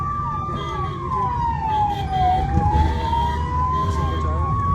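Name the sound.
ambulance siren, pink ambulance taking woman to hospital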